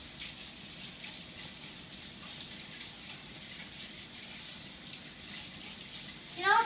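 Tap water runs steadily from a faucet as hands are washed at a kitchen sink, a soft continuous hiss holding at an even level before a brief louder splash at the very end.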